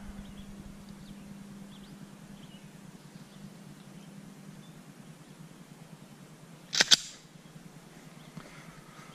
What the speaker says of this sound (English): I'm going to fire off a few rounds with the Glock Model 40 10 millimeter